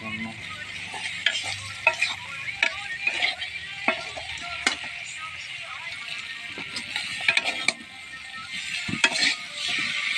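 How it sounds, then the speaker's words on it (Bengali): Desi chicken pieces frying in a spiced gravy crackle and sizzle steadily while a spoon scrapes and clacks against the pan in irregular bursts. "আমার মাংস ভাজা হয়েছে হালকা ভাজা দিয়েছি দেশি মুরগি তো"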